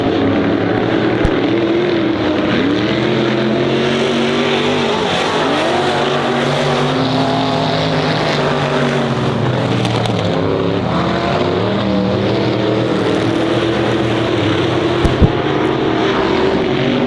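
Race cars roar around the Honor Speedway oval during a season championship event, engine drone loud and continuous throughout, with pitch sweeps rising and falling as cars pass close by, no voices.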